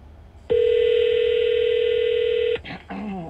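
A call is dialed on speakerphone during a radio show: one loud, steady ringback tone holds for about two seconds, then breaks off into brief muffled noises.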